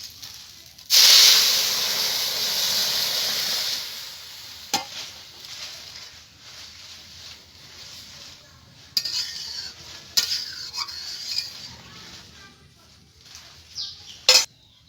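Lentils hit a hot pan with a loud, sudden sizzle that fades over a few seconds, followed by scattered spoon scrapes and clinks of stirring.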